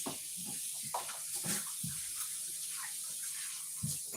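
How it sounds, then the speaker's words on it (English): A kitchen tap runs steadily as a cutting board is rinsed beneath it, a continuous hissing water stream with light splashes and knocks, close and even in level, with no voices. "It's already clean, but rinse it off anyway."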